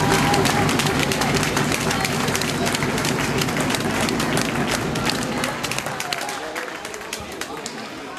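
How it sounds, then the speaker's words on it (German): Audience applause at a youth E-Jugend handball award ceremony for second-placed MTV Soltau, a dense steady wash of clapping mixed with crowd murmur that fades slightly toward the end. "Euer Applaus!"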